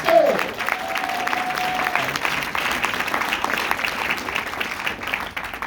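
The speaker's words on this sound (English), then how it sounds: "So y'all can clap your hands for y'all" Conference audience clapping in a steady, dense wash of applause that holds fairly evenly and eases off near the end, with a brief voice at the start.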